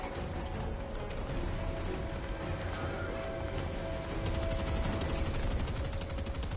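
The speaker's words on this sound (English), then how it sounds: "Stop shooting at me." Rapid automatic gunfire in the video game Friday the 13th, a dense continuous clatter of shots that runs the whole time at steady loudness, growing slightly heavier toward the end.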